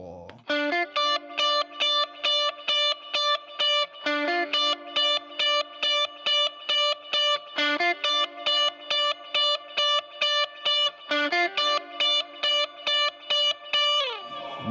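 An electric guitar with reverb and no delay plays a steady picked pattern of repeated chords in a 1-2-3-4 rhythm, clean and loud with a short ringing tail, no talking.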